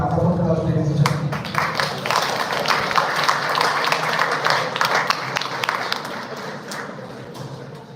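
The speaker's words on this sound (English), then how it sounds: "let's have a round of applause, ladies and gentlemen" Conference audience at the fourth international conference at SSR Medical College, Mauritius, breaks into a loud, dense round of applause, many hands clapping continuously in a close, full wash that thins slightly toward the end.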